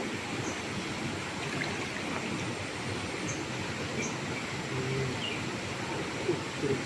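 A strong river current rushes in a steady, broad, unbroken roar close by, with no pauses and only faint sounds above it.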